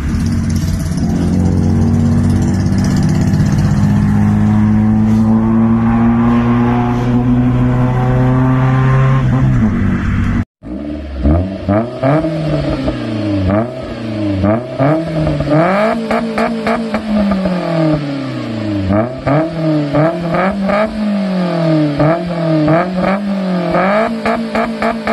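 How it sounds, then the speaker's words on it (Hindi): Modified Maruti Suzuki Zen with a loud aftermarket exhaust, first a rising rev then repeated sharp throttle blips, close and alone. "यहाँ पे मैं आपको छोटी सी क्लिप सुनाना चाहूंगा जो कि जेन की एग्जॉस्ट नोट की छोटी सी क्लिप है"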